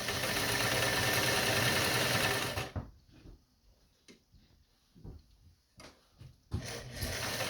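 A Singer 185J sewing machine stitches forward with a steady, close, whirring run for nearly three seconds, then falls to a few short bursts before whirring up again at the end.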